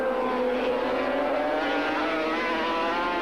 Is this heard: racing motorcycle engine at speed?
yes